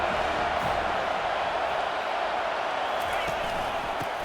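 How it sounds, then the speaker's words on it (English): Stadium crowd noise from a college football video game rises on a third-down defensive stand, a loud, steady roar of cheering that fills the whole stretch without a break. "Decibels rising as the crowd gets behind this defense on 3rd down."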